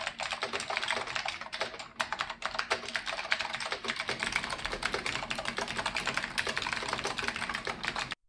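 Rapid, continuous typing on a vintage Focus 2001 keyboard with White Alps switches, crisp clacky keystrokes in a steady stream up close, with no voices.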